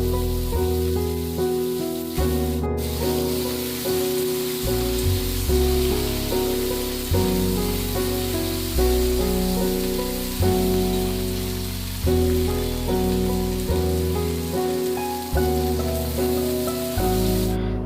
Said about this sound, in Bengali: তো এবার লতিগুলোকে ভালো করে ভাজা ভাজা করে নেবে।